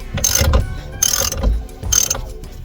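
A ratchet fitted with a 13/16 socket loosens the steering wheel nut on a 1998 Jeep TJ, giving three bursts of rapid, close clicking separated by short pauses.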